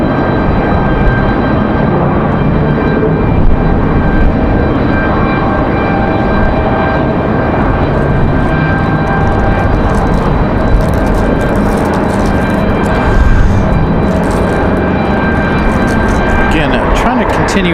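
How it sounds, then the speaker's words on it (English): A Frontier Airlines airliner departing Raleigh-Durham International on a windy day, its steady broadband engine roar filling the scene continuously, with wind noise and occasional talk underneath. "Frontier headed out for departure."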